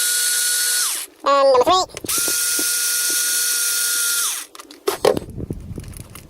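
A small driver whirs in high-pitched bursts while backing out three motor bolts on a Losi Rock Rey RC rock racer. Two long whines are separated by short mechanical clicks, and a voice speaks briefly near the end.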